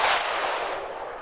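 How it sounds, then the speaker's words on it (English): Enemy shells from a battleship come crashing in during a World of Warships naval battle, a dense, loud burst of booming impacts and spray that rolls on without a break for about a second. "here his shells come in"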